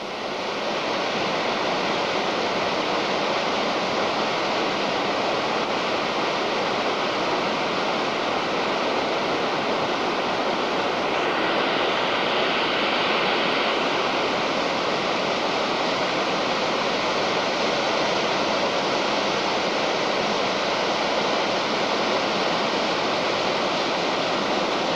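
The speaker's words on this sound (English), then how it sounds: "Water coming down the old bridge with the road." Water rushes steadily past an old stone road bridge in rural Ireland, a loud, continuous broadband roar that holds unchanged for the whole stretch, with no voices over it.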